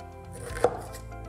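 A knife chops through white cabbage on a cutting board, slicing it into fine strips for a coleslaw, with one sharp, close thud standing out midway through a short run of steady cutting.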